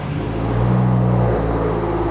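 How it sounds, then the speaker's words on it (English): BMW 335i with the N54 engine cranking and catching, a low engine tone settling into a steady close idle with no talking. "So we'll start the car."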